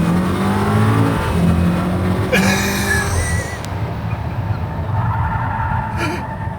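A Mercedes-AMG car pulls away from the pit lane, its engine revving loud and near through rising gears, with a sharp high-pitched chirp midway before settling into a steadier drone.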